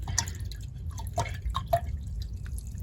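Water drips and splashes softly as a paintbrush is rinsed in a water jar, a few quiet separate drips and plinks over about three seconds in a still room.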